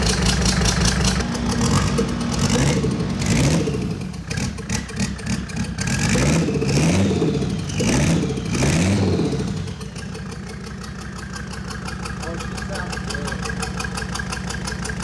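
A Mercedes engine just fitted with a swapped turbo runs loudly, revving up and down in repeated surges before settling into a steady idle, with people talking over it.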